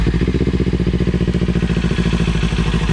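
A 2025 Kawasaki Ninja 500 parallel-twin idles at just over 1,000 RPM, a close, steady low burble of rapid even pulses with a light mechanical clatter and no talking.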